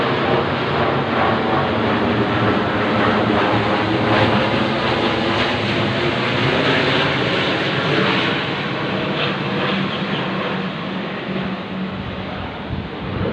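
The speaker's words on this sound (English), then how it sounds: "This is an army plane." An army plane passes overhead in Sydney, a loud, broad engine roar with wind buffeting that holds steady for several seconds before easing slightly.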